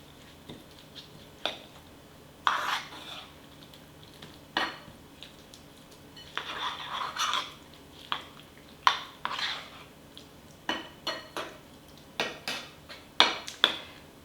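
Uncooked nine-grain porridge mixed by hand in a bowl with a spoon: scattered clinks and scraping knocks of utensil against the dish, irregular and close, with quiet gaps between strokes.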